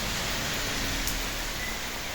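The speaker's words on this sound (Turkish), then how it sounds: "göğü yırtılıyor gibi yağmur yağmaya başladı" Heavy rain pouring down over a garden, a dense, constant hiss of downpour that fills the whole clip evenly, close and loud with no talk.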